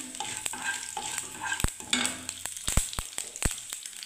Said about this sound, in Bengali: এবার আমি পাঁচমিশালির এই সবজিটা দিয়ে দিচ্ছি।